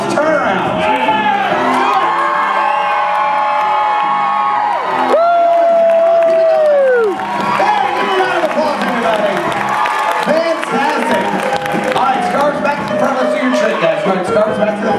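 A live audience at a juggling show screams and cheers loudly and steadily, a dense roar of shouts and whoops with one long rising scream standing out near the middle.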